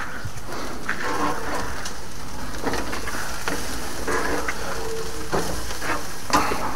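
A steak sizzles steadily in a hot pan, a dense continuous crackle of fat and juices, close and fairly loud with faint stirring scrapes and no talk.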